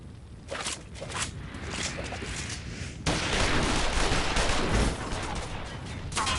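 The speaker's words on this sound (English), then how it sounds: "Shoot the bastard! Shoot him!" Heavy gunfire in a Final Fantasy XIV battle scene, a dense continuous burst of shots that grows louder and fuller midway through and carries on without a break, with no voices over it.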